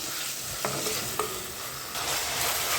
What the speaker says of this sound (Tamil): ரெண்டையும் நல்லா வதக்கி விட்டுக்கலாம் வெங்காயம் வந்து நல்லா பொன்னேரமாகிற அளவுக்கு வதக்கி எடுத்துக்கப்புறம்